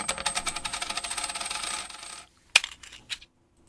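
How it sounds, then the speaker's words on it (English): Coins dropping: a quick run of metallic jingling clinks, then a sharp single hit and a couple of faint rattling settles before silence, close and clean with no voices. "That was the sound of 3 bitcoins."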